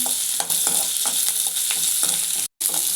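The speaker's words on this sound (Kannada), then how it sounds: "ಇದನ್ನೆಲ್ಲ ಒಂದು ಎರಡು ನಿಮಿಷ ಫ್ರೈ ಮಾಡ್ಕೋಬೇಕು ಈರುಳ್ಳಿ ಬೆಳ್ಳುಳ್ಳಿ ಜೀರಿಗೆ ಮೆಣಸು" Onion, garlic, cumin seeds and pepper fry in a pan, a steady close sizzle broken by repeated soft stirring scrapes, with one brief dropout near the end.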